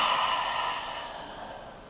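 A long audible exhale during a yoga flow, a close breathy sigh that starts strong and slowly fades over about two seconds.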